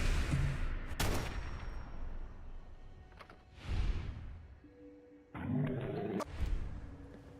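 Bolt-action rifle fire in Fallout 4: a few loud, sharp shots spaced apart, with a booming roar-like burst and ongoing game noise between them, no voices.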